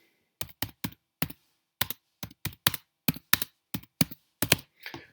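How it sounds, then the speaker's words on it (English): Keystrokes on a computer keyboard while setting vertical type on a path, about fourteen distinct close taps in an uneven rhythm with short gaps, no voices. "Take my point size up a little and start typing."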